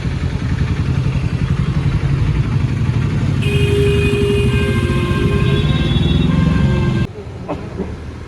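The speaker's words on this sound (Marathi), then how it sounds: "चला आता आम्ही रिक्षा केली आहे," Auto rickshaw engine running during a ride from a hotel in Jagannath Puri: a steady, loud motor drone with rattling clatter lasts about seven seconds, then drops to a lighter rumble at the end.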